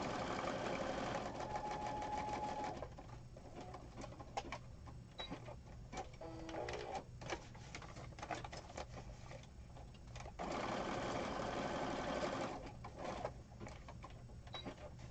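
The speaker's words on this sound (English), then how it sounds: "I'm going to go ahead and sew these pieces in place." A sewing machine stitches scrap fabric pieces in place, a steady close mechanical whir running in long bursts with a short pause and softer intermittent stitching in the middle.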